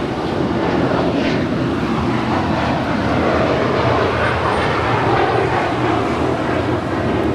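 A passenger airliner lifting off from runway 25 right at LAX makes a continuous, loud, broadband jet roar that holds steady from start to finish, with no talk.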